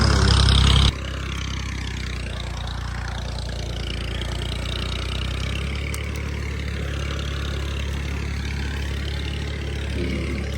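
A tractor engine pulls away from a farm field after ploughing, a steady low rumble with a brief louder burst at the start, then holding at moderate level in the near distance.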